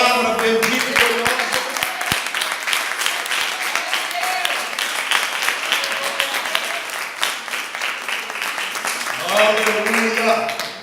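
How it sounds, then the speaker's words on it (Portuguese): A church congregation applauds steadily through a Portuguese-language service, a dense, continuous patter of many hands under a preacher's voice. "Palmas por essa palavra bendita por nós."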